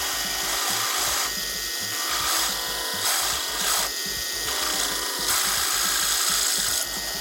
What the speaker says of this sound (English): start drilling this out.